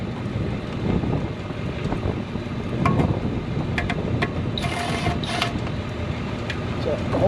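Outdoor wind rushing and buffeting a microphone beside a 2010 VW Beetle 2.5 during transmission work, a steady broadband roar with a few faint clicks and tool taps.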